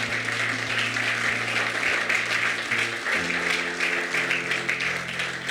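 Church audience applauding during a Spanish-language sermon, a sustained burst of many hands clapping over a held organ or keyboard chord that shifts pitch midway.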